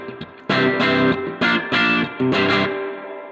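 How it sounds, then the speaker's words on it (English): Electric guitar through a dual-channel spring reverb pedal with a real spring inside, played in short distorted strummed bursts whose tails ring and fade between hits, close and loud. "the last thing on the board is a dual channel spring reverb"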